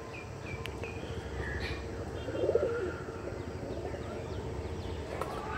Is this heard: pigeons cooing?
yes